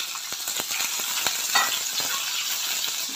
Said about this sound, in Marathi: स्टफिंग केलेली कारली याच्यामध्ये घालूया।